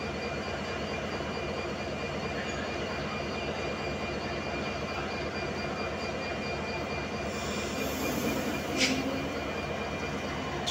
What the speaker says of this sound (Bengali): ট্রেনটা এখন সামনের দিকে চলে যাচ্ছে।